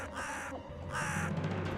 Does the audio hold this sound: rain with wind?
no